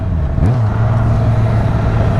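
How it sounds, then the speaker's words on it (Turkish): Road traffic heard from a Yamaha XJ6 Diversion F motorcycle, a loud, steady engine drone with a brief rise in pitch as the bike accelerates, under constant wind and road noise. "Abi şu trafik nedir?"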